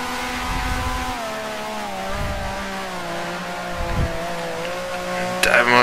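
Vintage 1965 Grand Prix racing cars from Grand Prix Legends, with a near engine droning steadily and rising and falling through gear changes, and a sharp burst of extra noise near the end.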